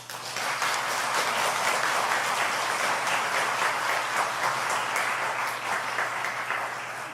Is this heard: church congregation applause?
yes